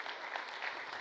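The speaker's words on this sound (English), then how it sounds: "Let's give another round of applause" A brief burst of continuous audience clapping at a leadership summit fills the moment, steady and moderately loud throughout.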